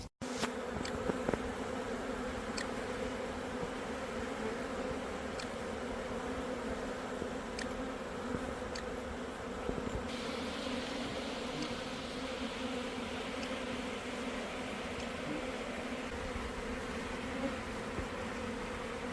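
Honey bees at a chestnut honey hive in Zonguldak hum in a dense, continuous buzz, steady and fairly faint, with occasional louder passes close by.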